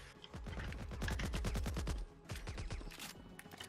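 Rapid, loud automatic gunfire in the video game RoboSquad Revolution, a dense burst of evenly spaced shots followed by a second shorter volley.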